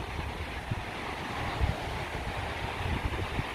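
Ocean surf rolling onto a beach, mixed with steady wind buffeting the microphone, a continuous close roar with low thumps and no voices.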